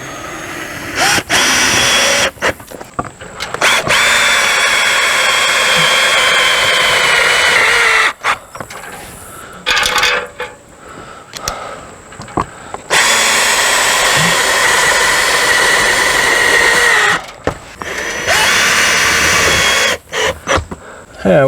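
Power drill driving a 1/4 inch head self-tapping screw into a metal rail for a slide topper, loud close whirring bursts repeated several times with short pauses between.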